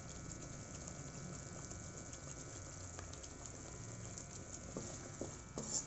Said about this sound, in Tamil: வெல்லம் போட்டு நல்லா கலந்து விட்டுக்கலாம்